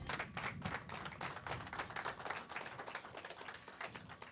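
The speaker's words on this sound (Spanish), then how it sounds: "le damos un aplauso al Señor." A church congregation claps in quick, continuous applause throughout, steady and fairly distant, with no voices standing out.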